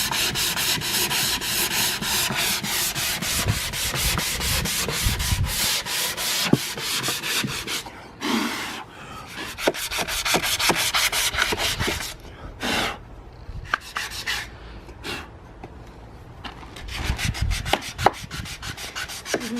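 Sanding on stained wood for a coffee table, a steady rhythmic rasping rub of strokes that pause briefly and resume, close and moderately loud, with no speech.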